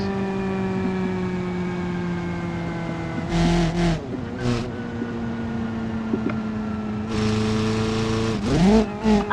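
A track car in BeamNG Drive runs with a steady, loud engine whine, then revs and accelerates in rising bursts with gear-change dips near the end of the drive.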